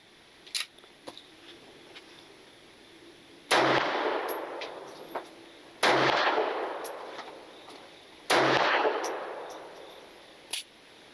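A 1915 French Ruby pistol fired until empty: three loud, sharp shots spaced a couple of seconds apart, each ringing out with a long decaying echo, plus a few faint metallic clicks and clanks between them.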